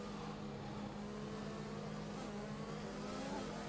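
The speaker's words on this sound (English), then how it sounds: "They're accelerating nice and hard, gaining the slipstream as well." Formula 1 race cars from F1 2021, running at the Saudi Arabia circuit, accelerate hard in a steady, dense engine drone with a sustained low hum that holds at constant loudness throughout.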